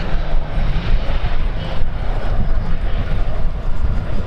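A fixed-wing airplane lands at an air show, its engine a loud, steady roar and rush that holds close and even across the few seconds.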